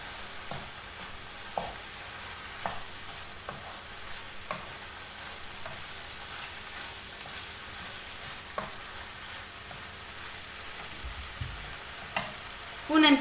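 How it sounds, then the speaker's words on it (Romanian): Diced eggplant cubes sizzle and fry steadily in a pan while a utensil stirs them, giving soft intermittent scrapes and taps close by, with a slightly louder knock at the end. "Am pus cubulețele de vinete, acum amestecăm bine."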